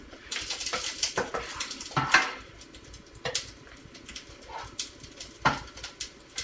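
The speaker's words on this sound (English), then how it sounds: "Got to continue to stir after this pasta starts to break down." A utensil stirs pasta roux in a pot for alfredo, giving faint, irregular clinks and scrapes against the pot, with a soft bird cooing somewhere in the background.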